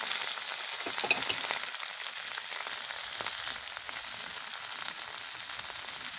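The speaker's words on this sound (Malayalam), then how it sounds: "അതേ ഫ്രൈ പാനിലേക്ക് ഞാൻ ഉള്ളി ആഡ് ചെയ്യുകയാണ്." Onion frying in a hot frying pan after paneer, a steady close hissing sizzle with a faint stir or tap early on, alone without talk.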